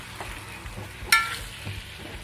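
Chicken manchurian sautéing with tomato ketchup and sauce in a hot pan, a continuous close sizzle with light scraping stirs and one sharp clink of a utensil midway.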